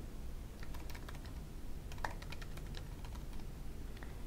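Someone types email account details on a computer keyboard, producing soft, close, irregular key clicks over a steady low background hum.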